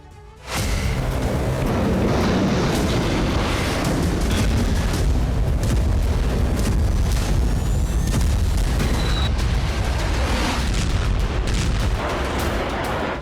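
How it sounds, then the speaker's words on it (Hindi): Heavy bombing from airstrikes in southern Lebanon, a continuous loud rumbling roar of explosions and booms rolling on without pause throughout. "आईडीएफ के बॉम्बर ने एयर स्ट्राइक की। दक्षिणी लेबनान में 6 ठिकानों पर बमबारी की गई।"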